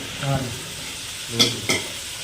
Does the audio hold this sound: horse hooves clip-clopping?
no